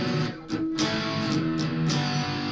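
A PRS SE CE 24 Standard Satin electric guitar with its humbucker coil split plays distorted, sustained overdriven chords with several restrikes, loud and steady, with no voices.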